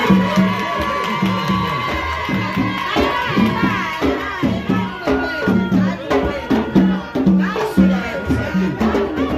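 A crowd at a vodou celebration in Haiti's Artibonite cheers, whoops and shouts in uneven bursts, with voices talking over the noisy, lively din.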